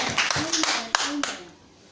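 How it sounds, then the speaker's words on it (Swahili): A church congregation claps for people receiving brand-new gifts, producing a short run of sharp handclaps with uneven spacing that fades out toward the end, with voices heard at the same time. "Mnaweza wapigia makofi wakipokea."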